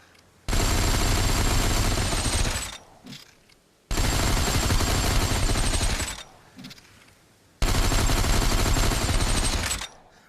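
Dual Uzis fire in the Population: One VR game, three loud sustained bursts of rapid automatic fire, each lasting about two seconds, separated by short pauses with faint mechanical clicks.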